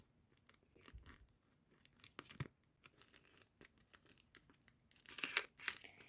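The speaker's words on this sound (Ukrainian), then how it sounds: "Відкрився пакетик" A pink paper surprise packet rips and crinkles up close in short, irregular bursts, ending in a louder flurry of tearing and rustling.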